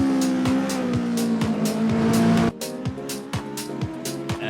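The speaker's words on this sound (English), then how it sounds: "Oh, you're gonna hear double car." Race cars in an F1 racing video game at Hockenheim roar loudly with high engine whine, two cars audible at once, with rapid regular gearshift steps and a sudden drop as one fades midway.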